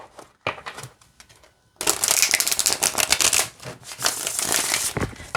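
A new Halloween-themed tarot deck of thick, glossy cardstock is shuffled: a few soft riffles at first, then a dense, loud run of crisp card flutters and slaps lasting several seconds, with no talk.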